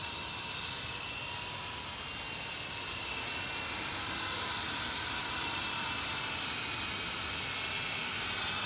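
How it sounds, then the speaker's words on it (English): A SYMA Chinook remote control toy helicopter flies outdoors in windy conditions, giving a steady high-pitched motor whine and hiss that swells slightly midway, with no talking. "but flies beautifully for a non-gyro helicopter."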